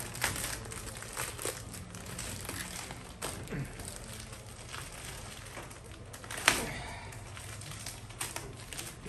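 Packaging from a Summit 20-inch four-burner gas stove being torn and crinkled open, a series of sharp crackling rips and rustles close by over quiet room noise.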